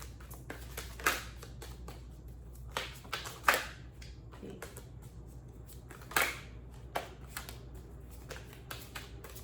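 A tarot deck is shuffled in a quiet room, producing several short, crisp riffling bursts at uneven intervals, with faint taps between them and no speech.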